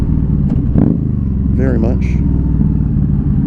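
A 2015 Yamaha V-Star 1300 Deluxe Special Edition motorcycle with an aftermarket exhaust runs close by with a loud, steady, deep rumble throughout, while a person speaks briefly over it.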